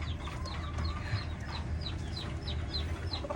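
Gamefowl roosters of Popeye Gray breeding stock cluck and chirp in a farmyard, with a steady stream of short calls over a low background hum.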